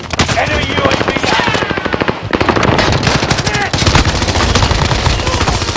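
Heavy gunfire in the Call of Duty: Warzone video game: loud, dense automatic bursts rattle almost continuously with overlapping shots and barely a pause throughout.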